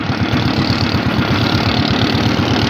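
Motorboat engines racing out on the water, a steady loud engine drone with a throbbing low rhythm throughout and no talk over it.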